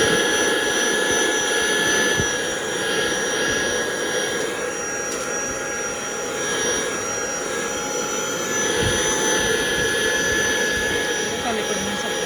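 A vacuum cleaner cleaning the inside of a car runs steadily and loudly with a constant whining roar throughout, with faint handling knocks and a voice speaking briefly underneath.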